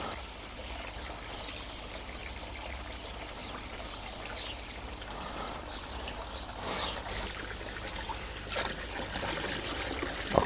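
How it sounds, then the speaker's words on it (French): Water trickles and splashes steadily into a garden tub that holds koi carp, a continuous close pour running alone for about ten seconds and swelling slightly toward the end. "je vais m'occuper de lui remettre un peu d'eau"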